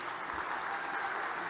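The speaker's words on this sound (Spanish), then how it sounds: "Fuerte el aplauso para todas" Steady audience applause fills a conference hall on International Women's Day in Panama, a dense even wash of many hands clapping at moderate loudness with no voices over it.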